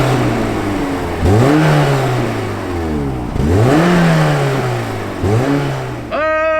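A Peugeot 405 Mi16 car engine revs up in three loud, rising surges, each climbing in pitch before falling back, with a final quick rev at the end.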